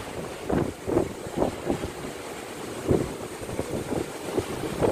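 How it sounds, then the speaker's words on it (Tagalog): Strong wind buffets the microphone in repeated gusts over a steady roaring rush, with water sloshing faintly beneath. "Lakas ng hangin."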